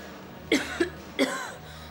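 A woman coughs close by, two quick coughs followed by a third, harsher smoker's cough, against a faint steady hum.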